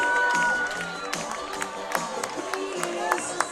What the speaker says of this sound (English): Fans are clapping, waving their hands on their feet here at Andy Moore Field